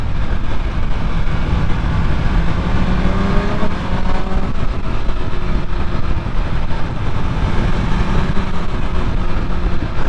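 A Ford Fiesta drives off on a road, its engine loud and steady throughout with broadband road and motor noise, heard close with no clear talk.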